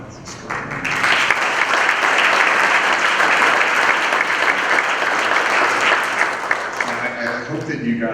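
Audience applause at an evening tribute show, a steady wash of clapping from a full crowd that swells in after a second and holds for several seconds before thinning out, with a few voices faintly under it.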